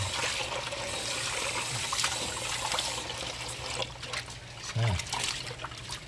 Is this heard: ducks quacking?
no